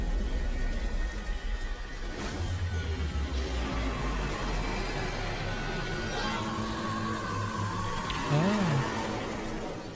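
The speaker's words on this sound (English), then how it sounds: "Oh. It's raining sideways." Steady rain falls in The Sinking City video game, a constant close hiss of drops across the whole stretch, with low game ambience rumbling beneath it and no talking.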